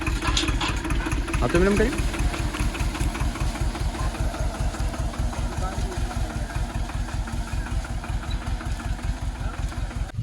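Mini tractor engine running while weeding a millet field, a loud steady chugging idle with a rapid even knock close by, someone speaking briefly over it at the start.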